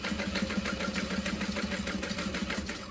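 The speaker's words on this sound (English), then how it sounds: "I'm gonna lay those right sides together and sew along each side." Sewing machine running steadily as it stitches along the sides of a zip-top tote bag with right sides together, a continuous fast mechanical whir with a rapid rhythmic pulse, close and moderately loud with no talking.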